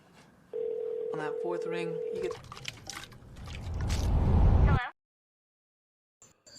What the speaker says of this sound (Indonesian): dia memberanikan diri untuk menelpon